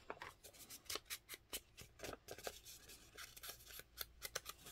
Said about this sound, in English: let me cut that just a little bit extra